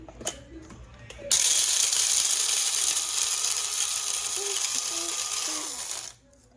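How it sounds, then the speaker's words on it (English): A coffee grinder processes whole beans with a loud, continuous whirring grind lasting about five seconds. It starts abruptly after a brief quiet start with small clicks and cuts off sharply at the end, close to the listener. "Okay, so we're gonna grind up the coffee."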